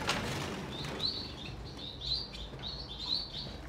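Bengalese finch chicks, around 25 days to a month old, give a string of thin high chirps in quick bursts, faint and close against a low background hum, with no talk.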